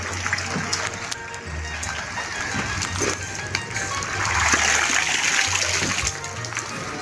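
Floodwater rushes and splashes away steadily with sloshing and trickling, a continuous outdoor wash of sound with occasional knocks.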